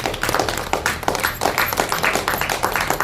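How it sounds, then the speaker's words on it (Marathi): People clap their hands in a group, a dense run of sharp claps repeating in an uneven rhythm, close and fairly loud, with no speech heard. "चला टाळ्या वाजवा."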